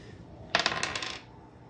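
A single die is rolled on a hard surface, giving a quick burst of sharp, close clatters and bounces that settle and fade within about a second, with no voices.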